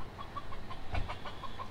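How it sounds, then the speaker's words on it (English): Wild chicken in Hawaii clucking outdoors, a series of short repeated clucks in an uneven rhythm at moderate distance over faint ambient background, with no talking. "Wonder if that's legal to catch cook the wild chickens."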